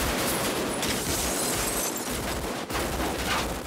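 Automatic weapons fire from a street gunfight in the 1995 film Heat, set in an empty downtown, a dense, continuous loud rattle of rapid shots echoing off building walls for several seconds.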